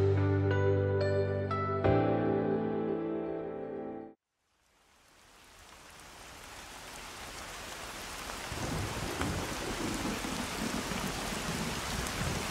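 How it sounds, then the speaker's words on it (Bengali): Steady rain falls with a broad, even hiss that swells gradually after a short musical passage and a moment of silence, then settles into a continuous downpour. "সকাল থেকে এক নাগাড়ে বৃষ্টি হচ্ছে, থামবার কোনো নাম নিচ্ছে না।"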